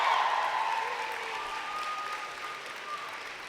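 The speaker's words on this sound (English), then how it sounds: "I invite the members of the graduating class to reciprocate by applauding your family, friends, faculty, and staff" A graduating class at a university convocation ceremony applauds, a dense, steady indoor patter of many hands clapping with a faint tone running through it, tapering slightly toward the end.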